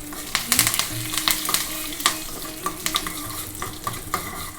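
Urad dal, chana dal, mustard seeds and curry leaves sputter in hot sesame oil in a kadai. Sharp, irregular pops and crackles ride over a steady sizzle, loud and close.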